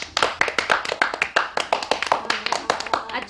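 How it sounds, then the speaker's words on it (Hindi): Children clapping their hands in a classroom storytelling session, a run of sharp, close claps in a quick, slightly uneven rhythm, with a little talk in the background. "जल्दी से ताली बजाइए।"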